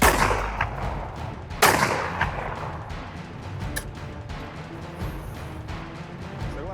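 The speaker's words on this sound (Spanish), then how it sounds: "El disparo fue muy fuerte. Era un arma grande sin silenciador." A single sharp report from a large, unsilenced hunting rifle cracks out near the start, followed by fainter thumps and a lingering noisy background.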